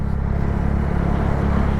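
A motorcycle fitted with a racing exhaust idles and revs in a steady, loud, continuous rumble close by, with no voices over it.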